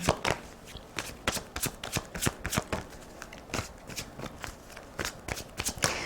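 Playing cards being shuffled repeatedly, a quick series of crisp riffling bursts and snaps, close and fairly steady, with no voices.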